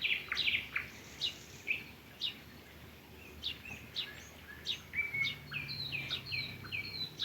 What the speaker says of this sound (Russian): наслаждаюсь пением соловьев